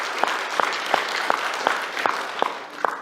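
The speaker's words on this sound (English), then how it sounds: "I wanted us to give them a special round of applause for the great job they did." A congregation at a Baptist Women's Day church service applauds a choir, sustained clapping with a few sharp, regularly spaced louder claps standing out near the front.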